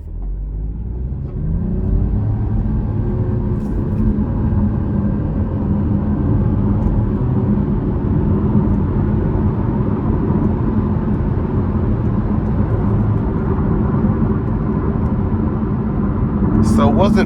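A 2025 Chevy Trailblazer LT with a 1.2-liter turbo engine accelerates under a moderate pull. A loud, steady engine drone and road rumble fill the cabin for the whole stretch.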